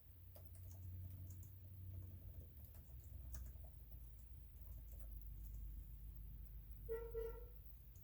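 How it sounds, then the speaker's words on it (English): Quiet, rapid keyboard typing with soft irregular clicks under a low room hum, followed by a short distant horn-like tone near the end. "Sorry, typing again."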